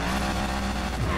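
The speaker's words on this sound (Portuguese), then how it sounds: "Ó o motor." A powerful car in the racing game Need for Speed Payback roars at high revs with tires squealing, a loud, continuous engine drone filling the whole moment without any voices.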